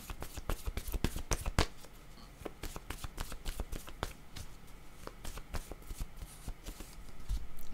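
Tarot cards being shuffled by hand, a rapid series of crisp riffling slaps and flutters, close and fairly quiet, continuing steadily with no talking.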